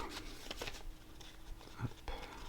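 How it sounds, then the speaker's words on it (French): Tarot cards drawn from a deck and laid down one by one over a spread, giving soft papery slides and light taps, quiet and close. "On va prendre 3 cartes maintenant pour recouvrir chacune de nos 5 cartes pour avoir un tirage complet."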